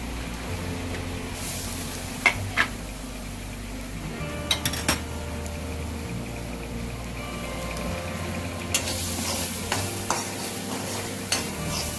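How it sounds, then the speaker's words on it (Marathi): Grated fresh coconut is stirred as it dry-roasts in a pan, a steady soft scraping with faint sizzle and occasional sharp clinks of the spoon against the metal, close and alone, with no talk. "प्रथम आपण ओलं खोबरं भाजून घेऊया."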